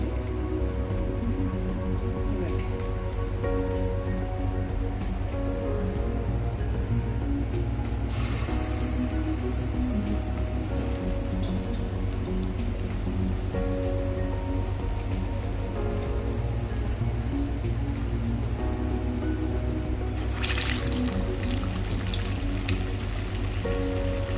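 Ash gourd vadas frying in hot oil, a steady dense crackle and sizzle that runs loud and continuous throughout, with a few brighter bursts of spattering.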